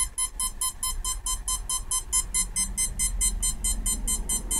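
A ducted fan brushless motor on 12 volts pulses rapidly and evenly, giving a steady stream of close, buzzy electronic ticks with a low hum underneath.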